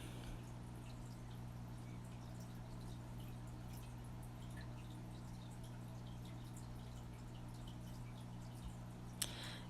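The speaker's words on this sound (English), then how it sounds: "You can hear my fish tank in the background." Fish tank filters bubble softly and evenly indoors, a faint, constant watery burble with a low steady hum beneath it and one small knock near the end.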